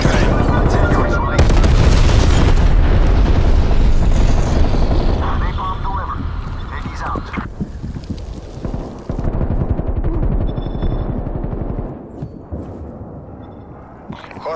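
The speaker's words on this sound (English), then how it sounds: "Deploy napalm strike." Heavy, continuous blasts and roaring booms of a napalm strike in a first-person shooter game, dense and loud throughout, with aircraft-like rumble and scattered gunfire mixed in.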